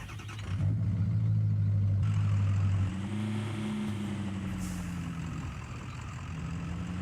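Mega monster truck engine in the Spintires off-road game, a loud steady low roar that surges and shifts pitch as it revs, with no talking over it.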